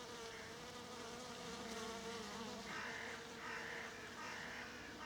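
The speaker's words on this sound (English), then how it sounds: "it's humming with hoverflies" Hoverflies hum steadily over purple flowering plants beside a chest-high overgrown countryside path, a continuous soft buzzing drone with several insects overlapping nearby, no voices.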